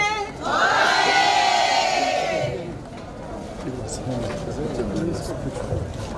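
A large outdoor crowd at an Uhuru torch reception in Dodoma cheers and ululates loudly with high trilling cries, which fade after a couple of seconds into a quieter murmur and scattered voices.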